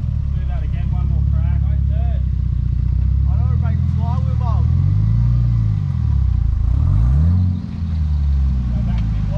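An off-road vehicle engine revs hard in third gear on a rough trail at night, its deep growl rising and falling in loud, close surges that dominate throughout.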